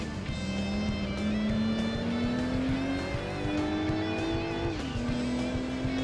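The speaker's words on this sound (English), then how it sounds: "It's a Porsche 911 modified" Modified Porsche 911 with a turbo kit races in Gran Turismo 2, its engine note climbing steadily through a gear, then dropping at a shift and pulling again, loud and continuous with no other sounds.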